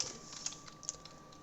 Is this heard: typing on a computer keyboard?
yes